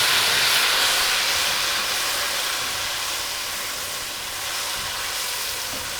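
Eggplant frying in oil over a medium flame after garlic, with a continuous loud hissing sizzle that eases slightly toward the end. No one speaks.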